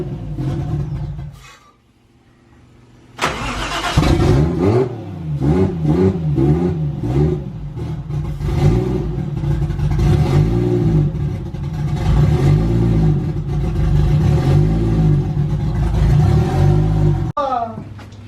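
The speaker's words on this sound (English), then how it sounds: "He's gonna see if it cranks." A swapped 1JZ engine in a Nissan 300ZX cranking over, with a loud rhythmic whirring starter drone lasting many seconds after a brief quiet pause, close and steady.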